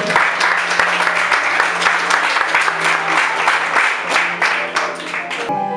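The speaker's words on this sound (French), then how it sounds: "Qu'on applaudit très chaudement, mesdames et messieurs" Warm audience applause for a contestant at the Miss BPX 2019 pageant semi-final, dense and fairly close clapping with sharp individual claps standing out, over a low steady hum, fading near the end.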